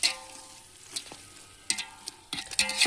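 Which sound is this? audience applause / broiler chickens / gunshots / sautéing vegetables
sautéing vegetables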